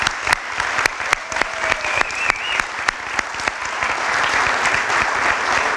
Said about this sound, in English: could we please give Coach Fisher a big round of applause for surpassing 600 wins